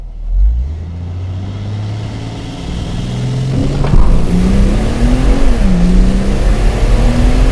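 A turbocharged car launches and accelerates hard from standstill on a 100 km/h road with traction control off, engine note rising steadily and loudly, a brief dip at a gear change, then climbing again to a roaring pitch.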